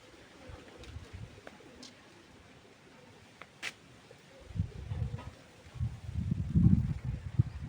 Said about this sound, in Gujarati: જો પારી એવા ઘૂઘવાટા કરે છે સરસ મજાના.